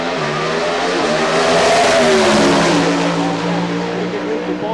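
An Oldsmobile Pro Stock drag race car accelerates hard at Maple Grove Raceway, its engine roaring loud and sustained with a rising, then shifting pitch as it powers down the strip.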